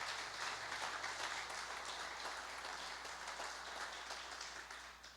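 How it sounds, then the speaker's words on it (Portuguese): A church congregation claps for Jesus during a sermon, a dense even wash of applause that stays fairly soft and distant, fading slightly near the end. "Então aplauda bem forte a Jesus."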